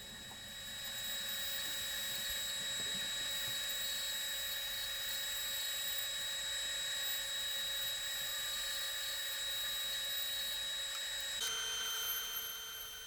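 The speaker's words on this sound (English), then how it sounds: "Just using the bandsaw to cut out that shape, staying just outside the line" A bandsaw runs steadily while cutting wood for a chest of drawers, giving a continuous whining drone with a sustained high tone that shifts pitch briefly near the end; there is no talking.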